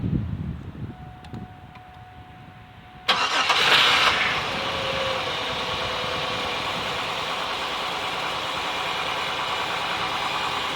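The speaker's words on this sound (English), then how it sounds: "Start the engine" An Oldsmobile Silhouette minivan with a hard-starting fuel system problem cranks briefly, catches and settles into a steady, fairly loud idle that holds to the end, with no talk over it.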